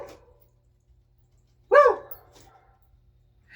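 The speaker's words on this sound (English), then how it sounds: "But they didn't start barking until you fired up this grill." A dog gives a single loud, close bark at a cabin in the Smoky Mountains, a short sharp burst standing out against near silence, with a faint sound just before it and nothing else around.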